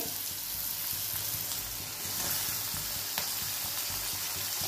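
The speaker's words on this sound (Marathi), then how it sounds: "तोपर्यंत हा कांदा आणि टमाटर पण याच्यात टाकून घेते." Onion and tomato sizzling gently in a pan over a low gas flame, a continuous close hiss with soft crackling and an occasional faint stir, no voices.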